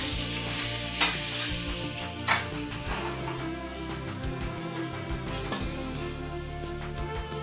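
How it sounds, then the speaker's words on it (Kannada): Cut paneer cubes fry in hot oil, a steady crackling sizzle with scattered sharp pops and clicks of a spoon stirring the pan, close and continuous with no talking. "ಎಣ್ಣೆ ಕಾದ್ಮೇಲೆ ಪನ್ನೀರನ್ನ ಕಟ್ ಮಾಡಿರೋಂಥ ಪನ್ನೀರನ್ನ ಹಾಕ್ತಾಯಿದ್ದೀನಿ"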